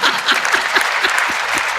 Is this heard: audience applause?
yes